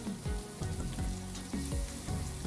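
Ginger browns with garlic in hot oil in a pan, a constant close sizzle punctuated by rhythmic stirring scrapes about twice a second, with no voices.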